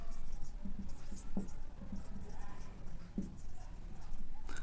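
Handwriting on a board or paper during a BSc algebra lesson on the binomial theorem, with soft scratchy strokes and brief taps in short bursts under a steady room hum, with no talk.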